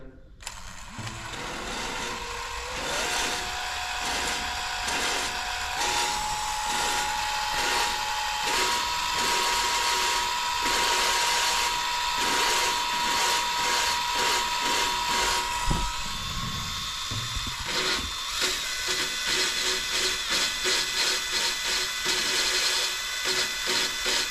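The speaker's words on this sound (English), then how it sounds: "that is how I lap valves" A drill spins a lapping tool on a racecar engine's valves, giving a steady, close, droning whine that shifts pitch in steps and ends in rapid rhythmic chattering.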